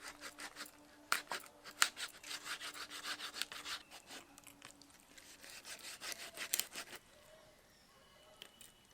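A knife cuts through a catla fish head in repeated rasping, sawing strokes, fairly faint and close, pausing near the end.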